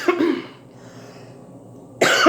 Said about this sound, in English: I never cough